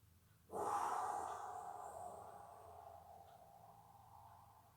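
Slow, deep breath during a yoga exercise, a single soft exhale that rises suddenly then fades gradually over several seconds, close and quiet with no talking.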